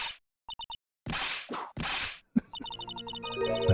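A whip cracks in the Phoenix Wright: Trials and Tribulations video game, a sharp thwack standing out among short blips, whooshes and game jingles, with no voices.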